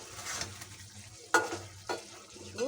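Spices being sautéed with green banana for a curry with pabda fish, a soft sizzling hiss under sharp stirring scrapes, one loud clatter near the middle and a couple more toward the end.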